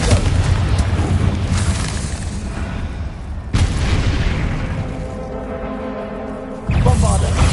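Confringo spell explosions in Hogwarts Legacy: loud booming blasts with a sharp hit midway and another near the end, rumbling and layered with game effects throughout.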